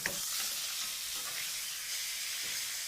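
Rib eye steak sizzling in a hot pan during a Mexican stir fry with lime juice, a steady broadband hiss with a soft clatter at the start as the meat is flipped, no talking.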